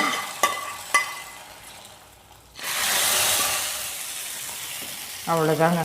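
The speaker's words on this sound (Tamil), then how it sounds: "இப்போ எடுத்து இதை தாளிப்பு எடுத்து சாம்பாரில் ஊற்றிடலாங்க" Golden onion tempering (tadka) poured into sambar: a few soft clinks, then a sudden loud hiss and sizzle that holds steady, with a brief stirring scrape near the end.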